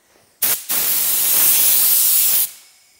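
Primer sprayed from an aerosol onto a Rover car bumper in a waterside workshop: a short hiss burst, a brief pause, then a steady loud spray of about two seconds that cuts off cleanly.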